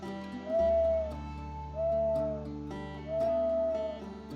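A musical instrument is played outdoors to imitate a mourning dove, giving three sustained, mellow hooting tones at an even pace over a low steady drone.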